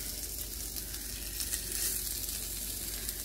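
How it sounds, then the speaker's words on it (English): Gyro meat sears in a dry pan with no oil, giving a steady, close sizzle that holds evenly throughout with no voices. "We're just going to throw a gyro into the pan for a real quick"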